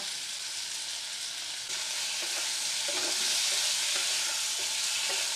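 Masala with jackfruit frying in oil in a pan, sizzling steadily and loudly while a spoon stirs it with soft, repeated scraping strokes that grow busier partway through.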